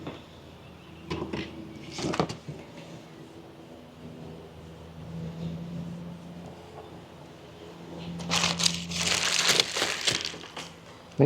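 Big Sea-Sucker suction cups on a SATGEAR Starlink case twist and grind against grit, with a couple of short crunchy scrapes early on and a louder, longer gritty crunching burst near the end.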